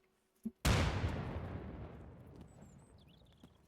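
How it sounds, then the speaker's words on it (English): A grenade detonates in Escape from Tarkov: one loud, sharp blast that rolls into a long, fading rumble, preceded by a short faint thump. "Grenade."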